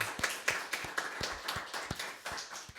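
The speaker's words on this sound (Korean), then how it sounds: "우리 박수로 한번 감사할까요?" Scattered hand claps from a small church congregation during Sunday worship, a steady irregular patter of applause lasting a few seconds, moderately close.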